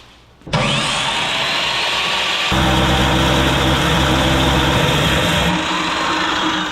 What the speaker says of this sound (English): with how fast this chuck is turning and rotating our heavy chunk of metal